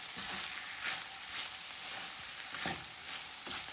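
Potatoes frying in a pan as pepper and green onions are mixed in, a soft continuous sizzle with a few gentle scraping stirs, faint and close, with no voices.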